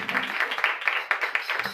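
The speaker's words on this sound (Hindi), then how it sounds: "जोरदार तालियां बजाएं।" Applause from a church audience at a large Christian program, a dense run of many hands clapping steadily and fairly close, with no speech over it.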